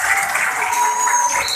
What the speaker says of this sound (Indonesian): Iya, tepuk tangan buat kita.